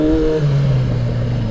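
Loud 1000cc motorcycle engine in first gear, its strong droning note sliding downward in pitch as the revs fall, close by with some mechanical clatter.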